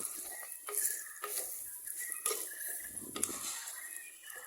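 Coriander powder and Kashmiri chili powder roast in a pan for tomato rasam, a soft steady sizzle with a spoon stirring and scraping the pan in light intermittent strokes, close and fairly quiet.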